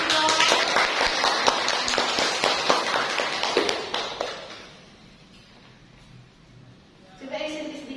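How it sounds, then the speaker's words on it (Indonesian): An audience claps during a youth talk show, a dense patter of hands for about four seconds that then fades out, followed by a quiet pause and a voice starting to speak. "Tepuk tangan dong."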